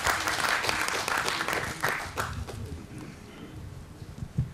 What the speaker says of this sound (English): Once again, a round of applause for Shri Bose.